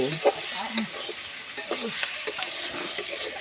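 Fish pieces with chili powder are stirred in oil in a pan, with soft scraping strokes over a quiet, continuous sizzle, close and fairly low in level.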